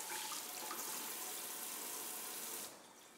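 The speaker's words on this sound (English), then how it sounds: "Rinse my hands off real quick." Tap water runs steadily from a faucet into a sink as sticky hands are rinsed in a kitchen, a loud, even broadband rush that stops abruptly near the end.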